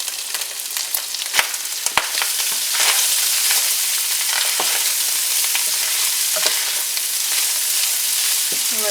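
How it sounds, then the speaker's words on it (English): Eight ounces of sliced mushrooms frying in a pan for a hamburger potato casserole give a loud, steady sizzle that swells after they go in, with a few sharp clicks and pops and no talk. "I'm going to just add in my 8 ounces of sliced mushrooms."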